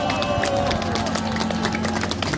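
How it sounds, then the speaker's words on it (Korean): Cheering and clapping from a large crowd at an outdoor political rally in Gwangju's old South Jeolla Provincial Office square, a dense, steady roar with scattered claps and a sustained hum underneath. "뜨거운 박수와 함성으로 공유해 주시기 바랍니다"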